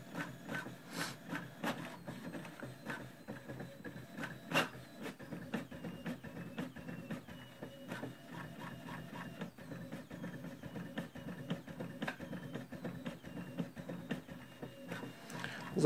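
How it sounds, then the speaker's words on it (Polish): A Brother inkjet printer runs through a page print after head cleaning, giving a steady mechanical whir broken by regular clicks and sharp ticks as the carriage moves and paper feeds, close up with no talking. "Zaraz zobaczymy, jak to nam wydrukuje."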